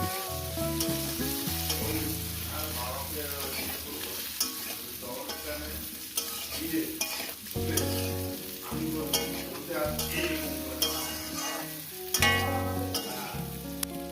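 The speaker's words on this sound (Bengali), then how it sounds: "আমি বেগুন আর কাঁচা লঙ্কাটাকে আরও মিনিট দুই ধরে ভেজে নেব" Eggplant and green chillies frying in a pan, a steady soft sizzle with occasional stirring, heard under prominent background music throughout.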